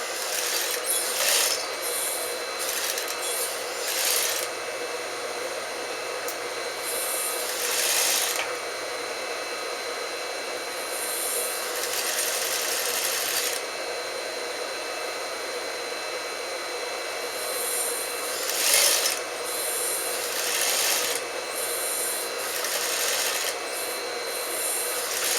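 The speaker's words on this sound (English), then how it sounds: "And I'm going to stitch the edge." A sewing machine stitching along the edge of a trouser waistband, a steady whirring motor run broken by short pauses between stitching passes, close and fairly even in level.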